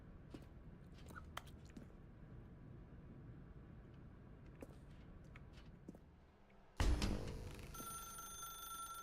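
Telephone ringing in the video game The Stanley Parable, a loud bright ring that bursts in near the end after a stretch of quiet clicking and crunching ambience, then continues ringing steadily.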